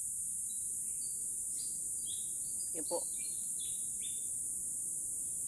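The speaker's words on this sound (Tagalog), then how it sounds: "Maririnig po natin yung mga iba't ibang huni ng ibon." Several short, high bird chirps scattered over a constant insect drone in a quiet mountain forest, with a brief murmured voice midway.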